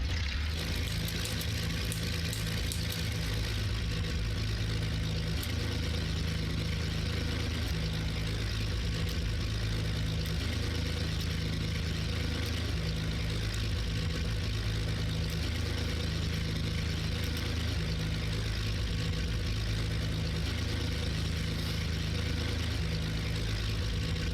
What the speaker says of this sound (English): Love the sound of these engines.